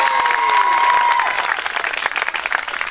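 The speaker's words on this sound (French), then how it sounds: "allez, on les applaudit." Applause from a crowd at a youth sports trophy event as a local football club is honoured, dense steady clapping that thins toward the end, with a sustained tonal sound over the first half.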